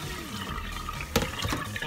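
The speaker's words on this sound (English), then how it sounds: "I'm gonna put more water on it again and just wash it." Tap water pours and splashes into a pot of rice being washed at home to rinse off the starch, an uneven nearby gush with sharp splashy bursts partway through and no talking.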